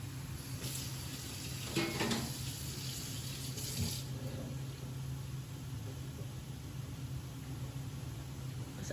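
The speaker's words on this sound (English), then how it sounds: "just gotta wash my hands." Running water pours from a tap into a sink as someone washes their hands in a kitchen while cooking, a steady rushing hiss with a few brief splashy bursts near the start, no voices.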